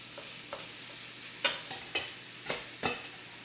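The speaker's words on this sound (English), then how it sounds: "I have to keep stirring, make sure nothing sticks to this pot." A spoon stirs garlic powder and other spices in a pot for pumpkin coconut curry shrimp, giving five or six sharp scraping knocks in an uneven rhythm over a faint sizzle, with no talking.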